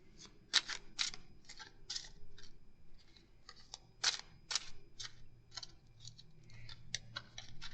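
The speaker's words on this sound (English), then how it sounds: "Let's shuffle a little more." A slippery tarot deck is shuffled by hand, producing a series of sharp, crisp riffling snaps in irregular bursts, close and fairly quiet with no talking.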